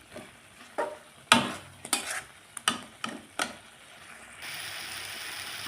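Spice paste with chili powder and salt being stir-fried in oil for a chicken dish, with sharp spatula scrapes and knocks in an uneven rhythm, followed by a steady soft sizzle, close by and with no voices.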